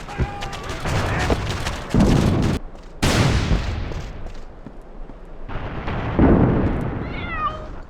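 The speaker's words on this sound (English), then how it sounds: "No, no, no, not the cat noises, not again." Cat meows mixed into the combat soundscape of the 2002 shooter Iron Storm, heard amid loud bursts of gunfire and booms, with a clear drawn-out meow near the end.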